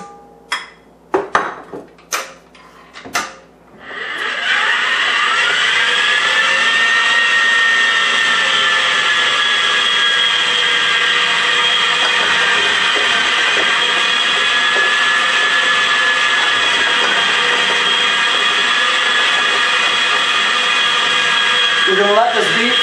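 After a few brief knocks, an electric mixer whirs steadily and loudly for a long stretch beating cheesecake batter with cream and softened butter, its motor pitch holding nearly constant before it stops.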